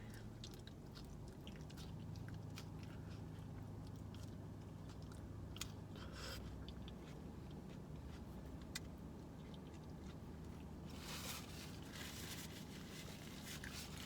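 Someone eats a crunchy bean taco up close, with soft, irregular chewing and crunching at low volume and occasional louder crackles of the shell, with no talking.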